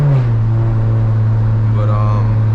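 A 600 hp single-turbo BMW 335i with an automatic gearbox, heard as the driver lifts off the throttle during a shift: the engine note drops sharply, then settles into a steady, loud low drone heard from inside the car.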